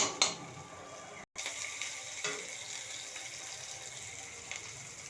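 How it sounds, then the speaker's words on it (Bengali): Sun-dried lentil dumplings and five-spice seeds fry in oil with a soft, continuous hiss, broken by a sharp knock near the start and a momentary dropout. "বড়ি 5 ফোড়ন তেলে ভেজে নিয়ে এবারে কাঁচা লঙ্কা পেঁয়াজ কুচি দিয়ে দিলাম"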